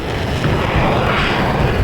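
Jet engines of a Sea Vixen F.A.W.Mk.2 in War Thunder roar steadily and loud, a thick, unbroken broadband rush filling the whole moment with no voices.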